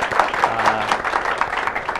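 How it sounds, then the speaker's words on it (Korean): An audience at a theological seminary lecture applauds to welcome the lecturer, steady clapping from a modest crowd with distinct hand claps pulsing through, a low voice briefly audible underneath. "김창원 선생님의 강의 여러분 큰 박수로 네. 청해드리겠습니다."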